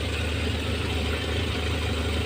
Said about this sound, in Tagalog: ang tahimik ng makina